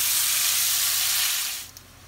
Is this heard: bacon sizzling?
yes